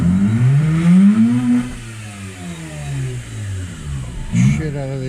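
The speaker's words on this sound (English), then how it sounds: "It's a hell of a misfire. And it's just spitting." A 2005 Mazda RX-8 rotary engine revs and sputters close by, misfiring badly with uneven pops and spits from the exhaust, its pitch rising and falling between throttle blips.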